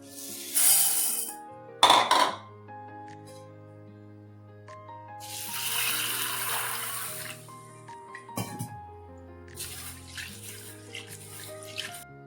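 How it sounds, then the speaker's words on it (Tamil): Raw peanuts and green gram are washed in a vessel under a running tap, with bursts of splashing water and clattering between quieter stretches of sloshing and handling. "வேர்க்கடலையும் பாசிப்பயிரையும் கழுவி எடுத்துரும்"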